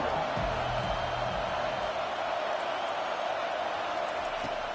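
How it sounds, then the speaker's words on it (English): A football stadium crowd roars in a steady, dense wash of cheering that holds at an even level throughout, with no distinct voices rising out of it. "this crowd trying to help keep them there"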